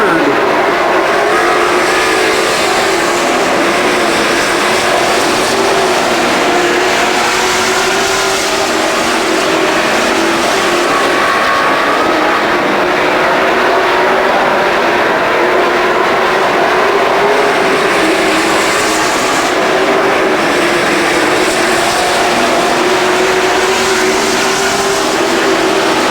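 Super stock race cars battle side by side on an oval track with a concrete wall at a 2006 race. Their engines blend into a loud, continuous roar that holds steady throughout.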